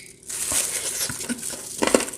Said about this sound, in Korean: 파김치 씹히는 소리 들리세요?